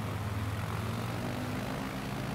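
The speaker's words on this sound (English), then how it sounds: "full power, full power. Ah, the plane screaming." Airplane engine roaring steadily at full power in Microsoft Flight Simulator, a constant loud droning hum with no variation and no voices over it.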